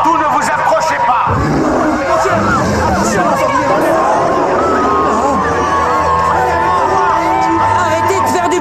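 A crowd shouts and chatters noisily in an animated scene, a dense, loud babble of many voices with occasional whoops and cheers rising throughout.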